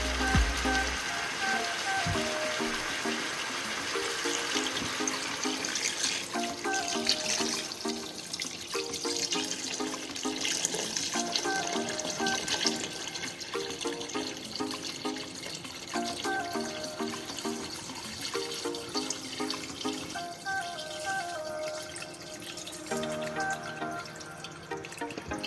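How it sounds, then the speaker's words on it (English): Water is poured into a pot of browned chicken for tamarind soup, splashing and trickling steadily for a long stretch with gurgling tones shifting as the pot fills, and no voices. "This is a perfect time to add in our water."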